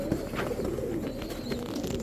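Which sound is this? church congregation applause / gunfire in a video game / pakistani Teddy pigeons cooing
pakistani Teddy pigeons cooing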